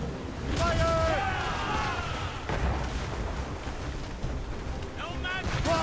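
Naval cannon fire in Assassin's Creed Rogue, a sea battle of heavy broadside booms over a constant rumbling din, with shouted voices throughout.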